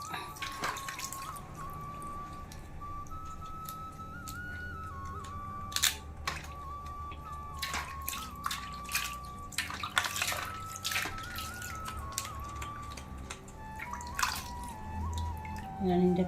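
Water splashes, trickles and drips as it is changed in a basin of crabs being washed for a homestyle crab curry, close and fairly steady, with occasional louder sloshes and a person talking now and then.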